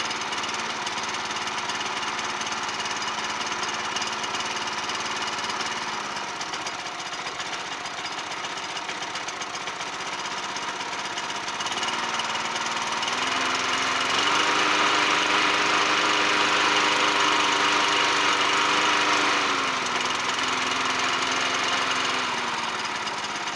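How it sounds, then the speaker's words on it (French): A Notac lawn mower's small engine runs steadily after starting, a droning hum with a knocking, vibrating edge that shifts pitch and grows louder partway through, heard alone. "J'ai réussi à faire fonctionner la tondeuse."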